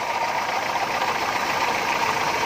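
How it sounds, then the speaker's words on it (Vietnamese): An old Kia Pride's engine idles smoothly in its open engine bay, a steady, even mid-pitched hum with faint knocking texture, close up and continuous, with no voices. "Máy nổ rất êm nha, không vấn đề nha."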